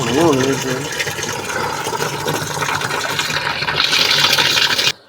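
Water drains out of a Kenwood KWM 1012SA washing machine with a steady rushing, gurgling flow that grows louder near the end before cutting off abruptly, with a voice heard briefly at the start.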